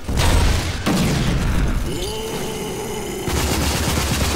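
Grenade blasts and gunfire in the shooter game Rage, loud sharp bursts with crackling debris, a sudden cut, then a sustained whine and rumbling battle noise.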